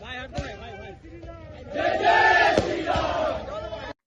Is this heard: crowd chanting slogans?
yes